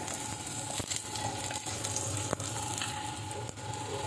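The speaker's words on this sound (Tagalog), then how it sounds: "magigisa na po tayo. Inuna natin syempre yung oil, then the ginger." Ginger sautés in hot oil with a close, constant sizzle and a few light stirring clicks over a low background hum. No one speaks.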